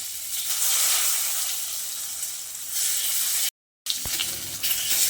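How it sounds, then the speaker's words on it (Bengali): Brinjal slices frying in oil in a pan make a steady, close sizzling hiss that swells and eases, briefly cuts out to silence, then resumes with a small clink; no talking. "একইভাবে বাকি বেগুনগুলোকেও ভেজে নিচ্ছি।"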